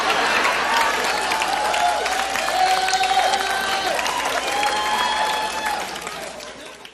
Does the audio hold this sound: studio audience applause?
yes